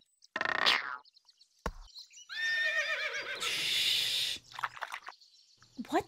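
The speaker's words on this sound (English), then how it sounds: "Is that the sound of eating an apple? It was just liquid." Apple-eating sound effect from the Barbie Horse Adventures video game, a wet, liquid-sounding burst of noise lasting over a second, set among horse whinnies and bright chiming game effects.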